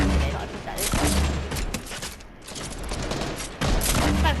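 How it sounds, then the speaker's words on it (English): Bombs and grenade launcher rounds explode in a video game: several loud, booming blasts and rattling bursts overlap in quick succession, close and dense. "So if I throw a bomb down here, a couple bombs actually, and actually a grenade launcher, they're dead."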